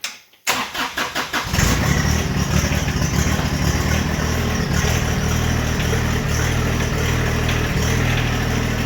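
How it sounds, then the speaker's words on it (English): A tractor engine cranks with a few rapid chugs, then catches and settles into a loud, steady, rumbling idle that continues throughout. "Let me start the tractor."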